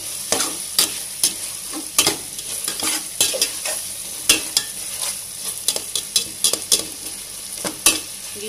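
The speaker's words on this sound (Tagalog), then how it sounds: "Gisa-gisa lang natin kaunti yan." Ingredients for ginataang kalabasa sizzle continuously in a pan, with repeated sharp scrapes and taps of a spatula as they are sautéed. No voices are heard.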